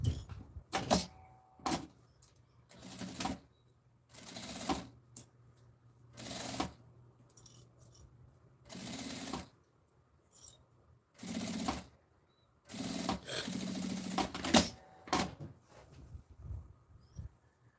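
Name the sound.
sewing machine stitching below bias binding of a bag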